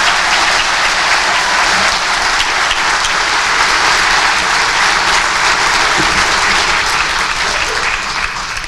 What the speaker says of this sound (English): Let's give the staff of IDYCA a round of applause